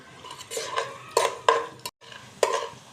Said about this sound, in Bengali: তেলটা একটু গরম হয়ে গেছে, এবার আমি দিয়ে দিব পেঁয়াজ কাটা, এগুলো বেরেস্তার জন্য দিয়ে দিব।